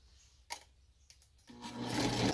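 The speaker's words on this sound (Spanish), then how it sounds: "Ok, entonces vamos a licuar." A blender whirs up ingredients for chicken flautas, starting abruptly after a few faint clicks and knocks and running loud and steady to the end.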